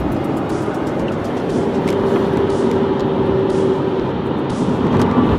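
A 1985 Lamborghini Jalpa's engine drones steadily and loudly from inside the car as it drives, a continuous rumbling roar with a faint whine running through it and no talking.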